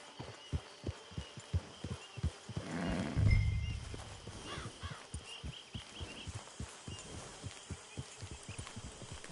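Horse in the video game Red Dead Online: steady rhythmic clip-clop of hooves throughout, with a brief louder snort or whinny burst near the middle, close and without talk.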